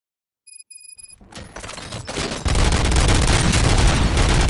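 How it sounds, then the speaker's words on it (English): A few faint taps, then rapid gunfire from a RoboCop game building into a dense, loud, continuous barrage of shots. "Gunshots? What's going on?"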